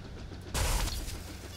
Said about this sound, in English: Here, we'll just shoot at a black wall.